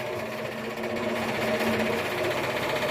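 A metal lathe steadily cutting through a machined mounting puck, a continuous close whirring drone with a faint rhythmic flutter and no talk.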